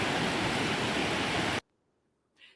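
A healthy salmon river rushes loudly as a dense, steady roar of water, which cuts off abruptly to near silence, followed by a faint short rustle.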